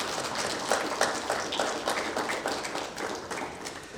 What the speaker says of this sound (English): Class, let's give our loved ones a hand.